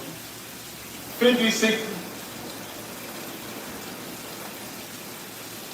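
Steady rain falls as a constant soft hiss throughout, with a brief voice saying a couple of words over it early on.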